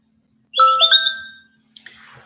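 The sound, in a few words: mobile phone notification sound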